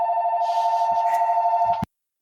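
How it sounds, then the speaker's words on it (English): A telephone bell rings in one continuous burst of rapid trilling tones, close and clear, lasting under two seconds before cutting off abruptly into silence. "the phone rings"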